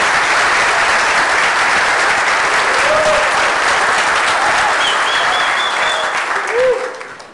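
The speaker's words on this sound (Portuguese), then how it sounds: "queria pedir para todo mundo uma calorosa salva de palmas para o pessoal da organização" Warm applause for the organizers of an agile conference in Curitiba, a thick, loud burst of many people clapping that holds steady and then fades away, with a few faint voices calling out over it.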